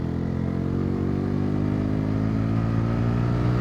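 Bajaj Pulsar N160 4V motorcycle accelerating in sport mode, a loud steady engine drone with rising pitch as revs climb, heard close and continuously without voices.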